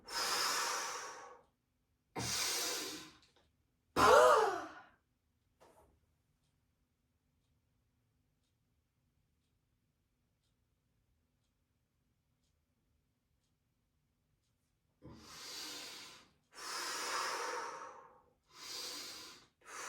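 Forceful exhalations during a breathing exercise: three sharp breaths out, a long silence, then four more strong puffs of breath, close to the microphone with no talk.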